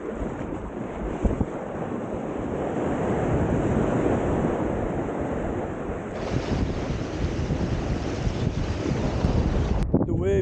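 Small, roughly one-foot ocean waves break and wash at a surf spot, a steady hissing surf mixed with wind buffeting the microphone, loud and continuous throughout.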